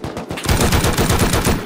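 AK rifle fired in the Rust video game, a rapid close burst of loud automatic gunshots in even rhythm lasting about a second and a half.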